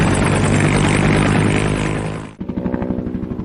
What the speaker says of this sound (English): Medical helicopter.